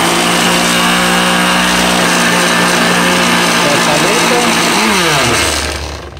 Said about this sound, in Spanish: Lo licuamos por 1 minuto para que los ingredientes unan todo bien perfectamente.